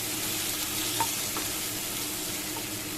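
Potatoes and eggplant fry in a pan while being stirred, giving a steady dense sizzle with faint scraping, close and constant with no talking.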